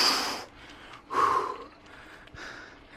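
Heavy, ragged panting from a cyclist climbing uphill, with several loud gasping breaths in and out, close and alone.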